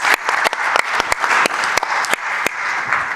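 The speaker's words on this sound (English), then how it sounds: "So let's give him a round of applause." Applause from an audience welcoming a speaker, Andy, to the podium at a tech talk: a crowd's dense clapping with distinct sharp individual claps standing out, fairly close, with a few voices faintly mixed in.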